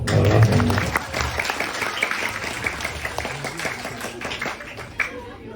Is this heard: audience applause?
yes